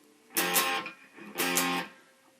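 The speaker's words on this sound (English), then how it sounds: "now when the distortion comes in, we're gonna play this" Two heavy strummed chords on a distorted electric guitar ring out one after the other, each loud and sustained before fading, played from a song.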